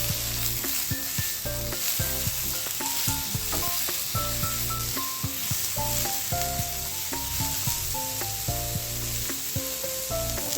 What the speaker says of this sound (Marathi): एक एक मोठ्या आकाराचा टोमॅटो घालून छान परतून घेऊया